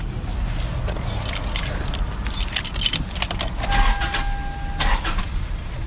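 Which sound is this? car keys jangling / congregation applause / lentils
car keys jangling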